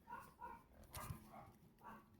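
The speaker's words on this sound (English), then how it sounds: "My doggies are going." Several dogs barking indoors in a home, a few short barks spaced across the moment at moderate distance, fairly faint.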